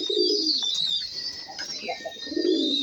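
Several pigeons feeding together give soft, low rolling coos in two longer bursts at the start and end, with a steady high hiss of ambient noise behind them.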